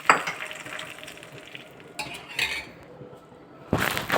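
A spoon scrapes and clinks in a pan while tempering of mustard seeds, fenugreek, cumin and curry leaves is stirred into a mashed tomato dish; soft sizzling, intermittent metallic scrapes and a louder clatter near the end, no talk.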